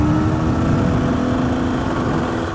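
A KTM 300 EXC two-stroke dirt bike engine running on a ride in a long gear, a continuous loud, close mechanical drone holding steady without breaks, no voices over it.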